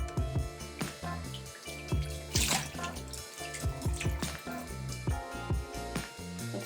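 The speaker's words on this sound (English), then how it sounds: "I'll put this one here and then rinse this off a bit." A houseplant is rinsed under running tap water, with steady, continuous splashing and trickling close by and no voices.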